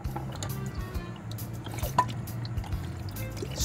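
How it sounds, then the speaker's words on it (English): Water drips and trickles as it drains from a can of black olives, a steady wet dribbling with a brief sharper plink partway through, close by and without voices. "Get rid of the water and the olives."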